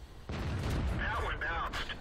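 A Matilda IV tank fires its cannon in World of Tanks on the Murovanka map: one heavy boom with a rumbling tail and a brief ringing metallic whine as the round bounces.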